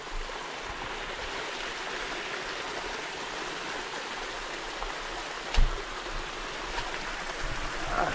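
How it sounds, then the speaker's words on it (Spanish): A mountain river waterfall in the jungle countryside of the Dominican Republic, heard as a steady, close rush of falling water that continues throughout, with one brief thump near the middle. "Esto sería una cascada bonita."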